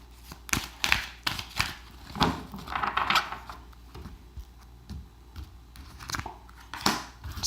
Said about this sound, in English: a couple more shuffles and let's pull from the center